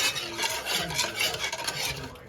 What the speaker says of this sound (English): so what I'm gonna do, stir this up a little bit